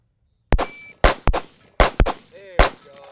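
Rifle shots fired over iron sights at an outdoor training range: six sharp, loud reports come in irregular pairs, each with a short ringing tail. Faint bits of voice sound between them.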